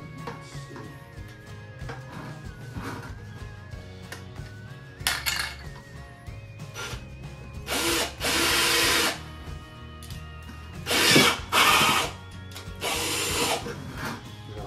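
A power drill whirs in several short bursts, each a few seconds long, drilling holes in a plastic bucket, with clinks and handling noises between them.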